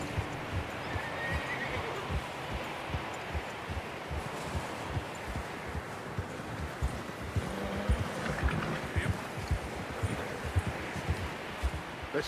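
A horse in the Red Dead Redemption 2 video game neighs and whinnies while its hooves clip-clop steadily and close, with rustling around the rider and no talk.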